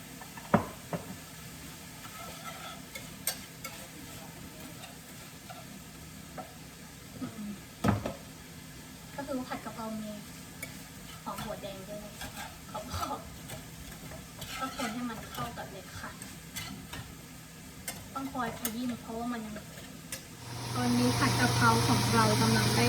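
Garlic and chili are stir-fried in a pan with the food nearly cooked: soft sizzling under scattered clinks and knocks of utensil on pan and someone talking, then a sudden loud close hiss of fresh frying near the end.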